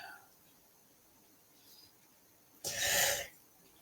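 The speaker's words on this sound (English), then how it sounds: "a little sneeze there" A single sharp sneeze bursts out loudly near the end, following a stretch of quiet room hiss.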